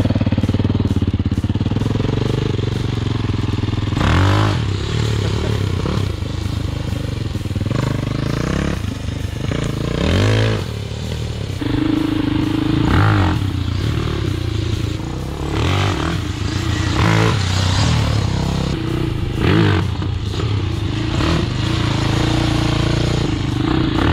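A tractor powered by a Yamaha YZ450F dirt bike engine roars loudly and continuously, revving up and down on a rough ride with rattling and clattering from the machine.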